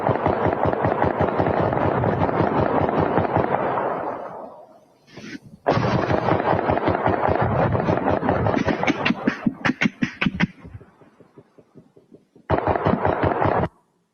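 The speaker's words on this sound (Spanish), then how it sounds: "Escuche y vea la potencia de los disparos." Bursts of rapid gunfire crack out in long volleys, loud and close, with brief pauses between strings of shots.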